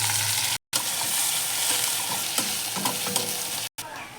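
Onions and green chilies fry in mustard oil left over from frying fish, a steady close sizzle with occasional stirring scrapes and two brief silent gaps.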